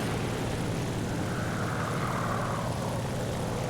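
XP-55 fighter plane in War Thunder flying along: a constant, loud broadband engine and propeller drone with airflow roar, steady throughout with a faint swelling hum in the middle.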